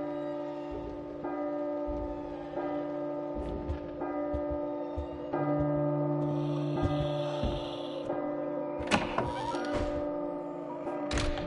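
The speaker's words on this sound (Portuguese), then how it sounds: "Doze badaladas." A deep church-style bell in the Godmode video game tolls repeatedly at a slow, even pace, each ringing strike overlapping the last, with a few sharp clanks and thuds near the end under low background hum.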